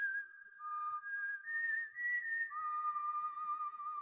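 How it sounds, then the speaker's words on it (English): A whistled tune from the Yu-Gi-Oh Duel Links video game, a clean, steady melodic line that slides between sustained notes, clear and continuous with no voices. "Next time I'm letting that whistle play out in silence if we get it"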